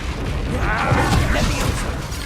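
A Confringo fire spell cast in Hogwarts Legacy, heard as a roughly two-second burst of crackling, booming spell energy. It is loud and sustained, with a rumbling blast at its core, and plays alone.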